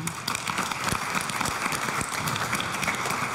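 A conference audience claps in a faint, steady patter of scattered hand claps heard from a distance, with no speech over it.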